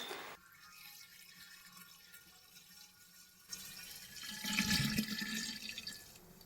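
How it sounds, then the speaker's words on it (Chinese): Strong baijiu of over 50 proof is poured over layered bayberries and rock sugar in a glass jar, a quiet trickling pour that swells into a louder gurgling splash midway, close up with no talking. "最后倒入50多度的白酒，酒要没过杨梅1到2公分"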